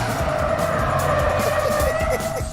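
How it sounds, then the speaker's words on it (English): Car drifting through a corner, a loud sustained tire squeal riding over engine roar, steady for a couple of seconds before easing off at the end. "James's turn to try and drift"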